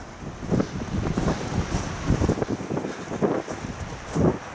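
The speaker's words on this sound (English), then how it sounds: "But at least the wind isn't so bad today." Winter wind blows outdoors over frozen ice, a moderate, gusty rush with uneven buffeting thumps on the microphone and no talking.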